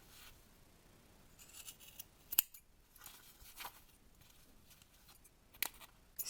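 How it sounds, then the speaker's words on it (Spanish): Scissors snipping yarn to trim a pompom, quiet close cuts with a few sharp isolated snips standing out against near silence. "Seguimos cortando."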